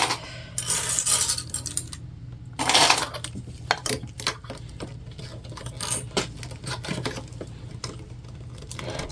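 Metal sewing clips are pulled off fabric and dropped one after another, giving a string of small sharp clicks and clatters, close by and irregular, during the sewing of a Magnolia tote bag.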